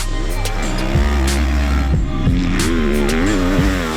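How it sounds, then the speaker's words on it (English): A Triumph TF250-X 250cc motocross bike rides on a track, its engine revving loudly and close, pitch rising and falling with throttle changes and thumps over bumps. "Triumph Motorcycles is finally ready to debut this, the TF250X"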